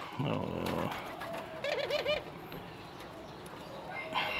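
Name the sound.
pet pigeons cooing at feeding time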